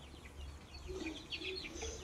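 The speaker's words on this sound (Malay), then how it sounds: "Ini ayam saya" Clucks and soft chirps from a flock of 31-day-old chickens on a poultry farm, faint overlapping calls continuing steadily over a low background hum.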